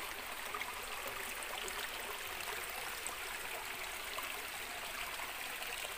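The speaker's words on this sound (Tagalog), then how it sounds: "bali dito nang galing yung tubig. Tapos lalabas doon sa unahan." Spring water flowing from under the ground inside a guano cave in Matag-ob, Leyte, a steady, continuous rushing and trickling wash that stays close and even throughout, with no voices.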